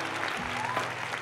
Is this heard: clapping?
yes